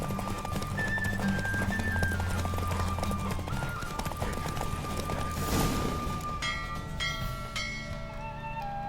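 Hooves clip-clop rapidly and steadily as a horse gallops in a race in the video game The Witcher 3, with a continuous rhythmic beat under game music tones and a brief whinny-like burst.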